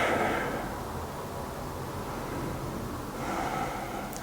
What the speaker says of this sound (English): Nice big breaths.